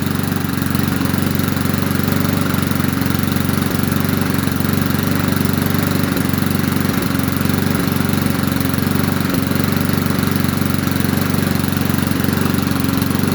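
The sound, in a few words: 2002 Rally push lawn mower engine running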